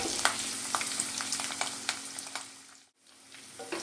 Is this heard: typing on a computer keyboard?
no